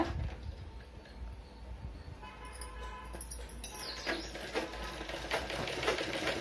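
A sewing machine stitching a blouse lining together with the blouse piece, a steady fast mechanical whir and clatter running throughout, close and moderately quiet with no talk.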